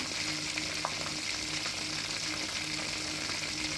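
Food fries for delivery orders with a continuous dense sizzle and crackle that stays close and even throughout, and no one talks.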